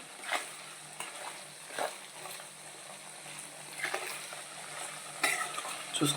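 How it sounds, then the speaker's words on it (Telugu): Mutton pieces frying and being stirred in a pan for mutton pickle, a steady soft sizzle broken by several scraping stirs, moderately quiet throughout with no talk. "మీరు మటన్ అది ఫ్రై చేసేటప్పుడు చూసుకోండి, మరి ఎక్కువ డీప్గా ఫ్రై చేయొద్దు."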